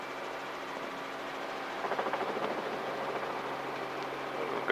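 A helicopter during a shallow run-on landing training flight in sketchy weather, its engine and rotor making a steady, loud broadband roar, with faint rotor thumping midway and a brief louder bump at the end.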